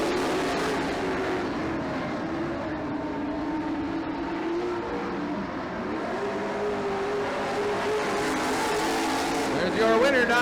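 Race cars on the final lap of a race, engines droning loudly and steadily with a constant roar that swells slightly near the end.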